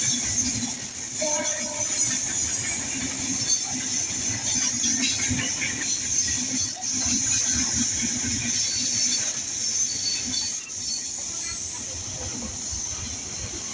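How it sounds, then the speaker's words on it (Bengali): A train passes near woodland on a rail line in Bangladesh, making a steady, loud rumble with a continuous hiss that holds close by for the whole stretch. "ওই দেখো একটা ট্রেন চলে আসছে।"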